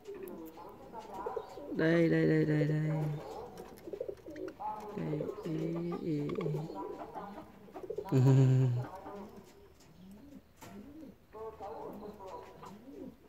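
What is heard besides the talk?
long-tailed parakeets calling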